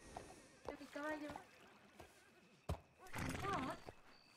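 In a roleplay video game, a horse neighs and hooves thump in short bursts, separated by a sharp knock and quieter stretches, fairly faint overall.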